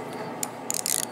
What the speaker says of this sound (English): Got a quarter inch ratchet.